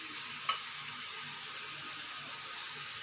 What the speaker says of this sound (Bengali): এবার বাটা মশলাটা দিয়ে দেবো।